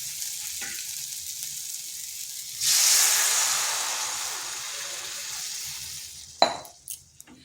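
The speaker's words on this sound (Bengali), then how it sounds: "কষানো হয়ে গেছে, এরপর দিয়ে দেবো জল।" Water poured into a pan of sizzling spiced masala for a papaya curry sends up a sudden loud hiss that slowly fades, ending with a brief clank of utensil against pan.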